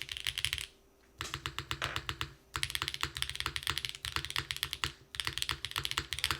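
A Neo75 CU mechanical keyboard fitted with small inserts is typed on in quick bursts of crisp, close keystrokes, broken by two brief pauses.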